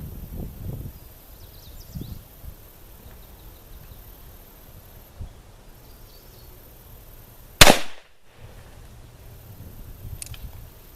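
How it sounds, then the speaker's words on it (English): A single sharp gunshot from a Ruger Vaquero .45 Colt single-action revolver fired at a 50-foot slow-fire pistol target, loud and close, standing out once against quiet outdoor background rustle. "I'll take a few shots at this 50-foot slow fire pistol target"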